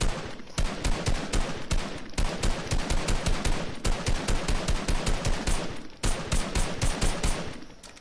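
Gunfire from the video game Fortnite: a rapid, dense run of single shots fired one after another in quick succession, loud and close, with only brief pauses between bursts and no voices.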